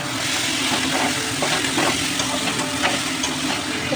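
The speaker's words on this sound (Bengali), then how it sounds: "দেখুন কষানোর সাথে সাথে বেশ একটা তেল ছেড়ে দিয়েছে" Spice paste sizzles and fries in oil in a pan for a tangra fish curry, a steady crackling hiss with faint stirring scrapes, close and continuous.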